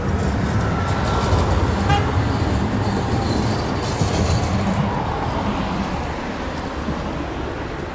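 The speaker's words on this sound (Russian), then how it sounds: "Вот электричка Стамбула." A commuter train rumbles past nearby in Istanbul, with a steady roar of wheels on rails and a faint high squeal, gradually fading toward the end.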